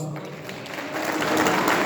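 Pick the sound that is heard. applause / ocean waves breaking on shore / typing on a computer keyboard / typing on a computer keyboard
applause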